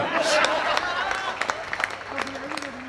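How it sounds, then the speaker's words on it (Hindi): Scattered handclaps ring out from an audience at a humorous health talk, sharp irregular claps heard close by while people speak over them. "कूट के तालियां बजाई हैं"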